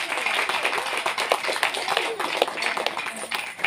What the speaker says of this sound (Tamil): ஒவ்வொருவருமே சிறப்பான விதத்தில் கைத்தட்டி பாராட்டுகிறோம்